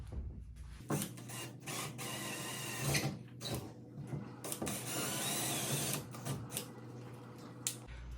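A power drill boring a hole into a wall for toggle bolts while hanging a chandelier, quiet whirring bursts of drilling with short pauses between them, faint and fairly close.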